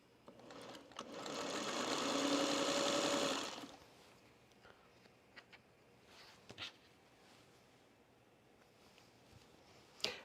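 A sewing machine stitching a diagonal seam runs in a steady, close whirring buzz for about three seconds, then stops, leaving quiet handling clicks and taps.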